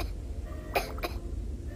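A person coughs twice in quick succession, close and fairly soft, against a low steady background rumble.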